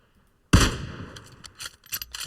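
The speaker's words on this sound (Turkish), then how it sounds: "Derken çok da uzak olmayan bir silah sesi geldi alanın içerisinde." Gunfire in the mobile battle royale game PUBG Mobile: after a moment of silence, one loud sharp shot cracks out, then a ragged string of quieter, scattered shots trails off.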